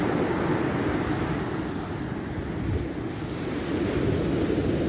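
Ocean surf rolls onto a California beach in a continuous, loud wash of breaking waves, mixed with steady wind rumble against the microphone and no voices.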